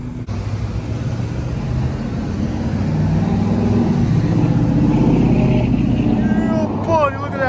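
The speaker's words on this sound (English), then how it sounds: "look at that truck going down the road" A truck driving down a road in the aftermath of a hurricane in Florida's Big Bend region, Citrus and Levy Counties: a continuous engine rumble that builds and passes, with a person talking over it.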